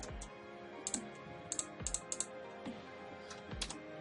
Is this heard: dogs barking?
no